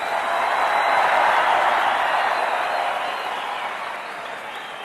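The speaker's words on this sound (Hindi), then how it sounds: "ये आपके तालियों की गूंज पोरबंदर तक सुनाई जा रही है।" A large audience applauds at a speech by PM Modi, a dense, sustained wash of clapping that swells early and then slowly fades, loud and filling the whole space.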